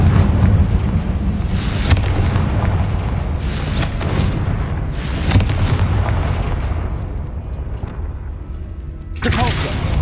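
Confringo blasting spell in a Harry Potter video game, loud booming blasts and crackling impacts layered over dense battle noise, with a voice speaking during the fighting.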